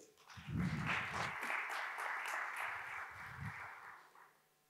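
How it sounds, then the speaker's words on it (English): Audience applause for a speaker taking the stage at Meet Magento Baltics, a conference on the Magento community: a steady wash of clapping that holds for about four seconds and then fades. "Big round of applause, please"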